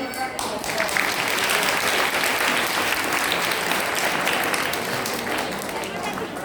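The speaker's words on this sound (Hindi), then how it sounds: "हमें तो बस आपके तालियों का शोर अच्छा लगता है।" Sustained audience clapping at a school event, a dense, even wash of applause continuing steadily throughout at moderate loudness.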